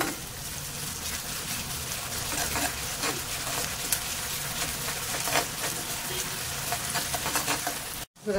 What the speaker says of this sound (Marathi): छान आपल्याला ना परतवून घ्यायचंय गुलाबी होईपर्यंत।